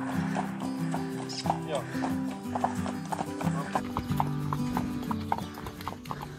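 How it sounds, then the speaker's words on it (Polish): Hooves of cold-blooded draft horses clip-clop in a steady, close rhythm as the animals are led along a village road in rural Podlasie, with voices talking over the footfalls. "po drodze prowadzone są konie ziemnokrwiste"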